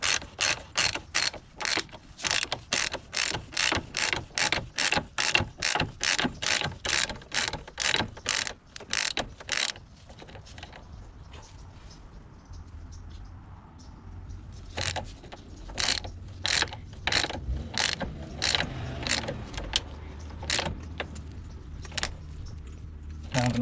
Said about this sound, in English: tighten this one up now.